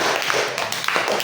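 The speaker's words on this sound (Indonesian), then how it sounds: "Silakan duduk kembali, beri tepuk tangan." Classroom applause for a student returning to her seat, a short burst of many hands clapping steadily through the whole moment, fairly close and even in loudness, with no talking over it.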